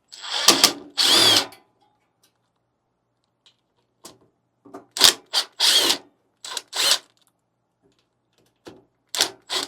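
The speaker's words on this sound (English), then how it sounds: "Let's use a power tool. It'll be a lot easier." A power drill removes screws from a Lelit Bianca espresso machine's panels, whirring in short bursts separated by silent pauses, clustered in several quick runs, close and loud.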